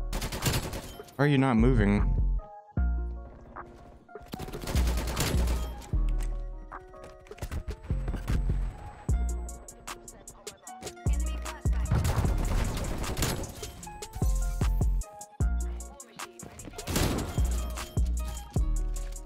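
Rapid automatic gunfire in Call of Duty Cold War, with repeated loud bursts and single shots spread throughout, mixed with game effects and a player briefly speaking over the action.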